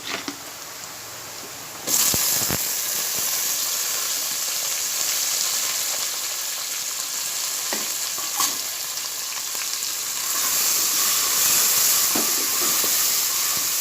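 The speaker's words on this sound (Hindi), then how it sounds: "अब हम इसमें टमाटर डालेंगे।" Tomatoes tipped into a pan of onions fried to light golden for a Konkani mutton akhni, setting off a loud, steady frying sizzle that jumps up suddenly and holds with faint stirring clinks.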